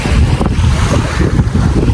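Strong wind buffets the microphone on a moving boat while island hopping off Mindoro, Philippines, with a roaring, gusty rush of air and water noise and no voices.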